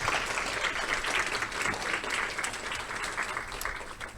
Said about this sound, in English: So give yourselves a nice clap here, a round of applause.